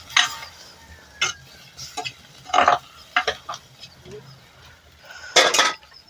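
Salt, chili and masala powders are stirred through hot oil for a prawn curry. Irregular bursts of metal spoon scraping and clinking against the pan come through, with a faint sizzle between them.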